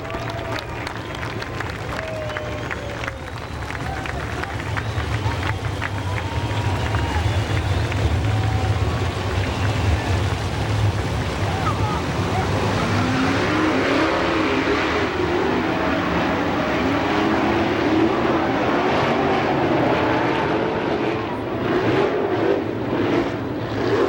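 Loud crowd cheering and applause from race fans as All-Star Circuit of Champions sprint cars roar past at a Pittsburgh speedway, engines and crowd blending into a steady, dense roar that swells toward the middle and holds for the rest of the stretch.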